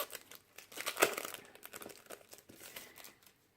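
American Craft planner card pack in plastic wrap being opened: close, continuous crinkling and rustling of plastic with one sharp tearing crackle, no talking.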